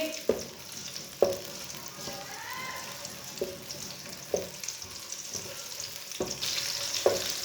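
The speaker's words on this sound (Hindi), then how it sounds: "प्याज को हल्का सा ब्राउन कर लेंगे।" A small, finely chopped onion fries in half a cup of oil in a pan, with a steady close sizzle broken by several sharp scraping stirs spaced through the stretch, and no voices.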